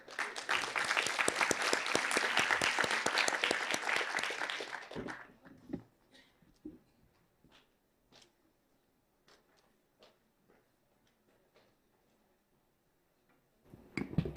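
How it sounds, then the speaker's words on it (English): Conference audience applause for a speaker rises as a loud, dense burst of clapping for about five seconds, then fades to scattered isolated claps and near silence before a few claps return at the end. "Please give Dr. Khan the applause."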